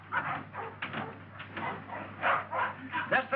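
A dog barks and whimpers in short irregular bursts under an ongoing conversation, with people talking close by and the animal sounds partly masked by their voices.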